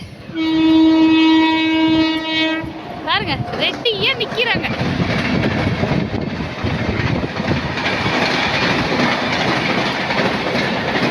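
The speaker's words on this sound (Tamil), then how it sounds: "இப்போ பாருங்க, இன்னைக்கும் ட்ரெயின் வருது" A long, loud horn blast is followed by the rumbling, clattering roll of a train passing nearby, while a person speaks briefly.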